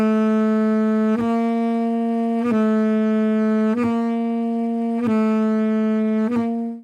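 A sustained saxophone tone holds steady while the pitch shifts between middle B and middle C with a brief glitchy blip from uneven fingering about every second, five uneven note changes in a row, close and clear.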